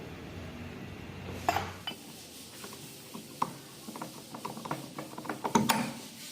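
Metallic clinks and ratcheting clicks while fitting a chain sprocket on an Apache RTR 160/180 motorcycle, sparse sharp knocks and rattles in a workshop over a steady background hum, no talking.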